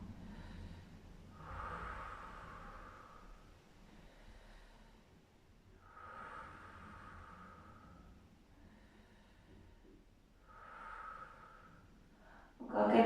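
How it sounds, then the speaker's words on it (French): Slow, deep breaths during a gentle shoulder-relaxation yoga session, three long soft exhalations spaced a few seconds apart, close and quiet, with a brief louder noise at the very end. "Encore quelques belles respirations."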